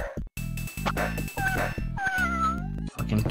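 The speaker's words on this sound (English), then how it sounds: "Fucking cats." Cats meow and wail in the video game Monster Bash, a few drawn-out, wavering cries over chunky looping game music.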